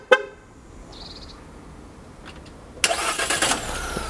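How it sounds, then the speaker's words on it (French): A Chery Tiggo 8 SUV starting by remote start: a short horn toot and brief chirps, then the engine catches and settles into a steady close idle, with no talking. "Voilà, démarrage à distance."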